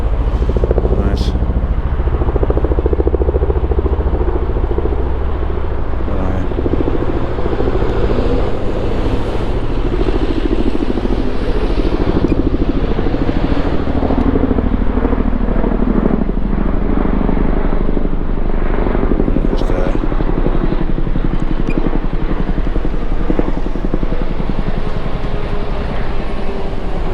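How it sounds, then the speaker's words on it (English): A helicopter drones steadily overhead, a loud continuous rotor and engine roar with broadband wash that holds throughout, faint voices underneath. "I need that helicopter coming back here. Here it is."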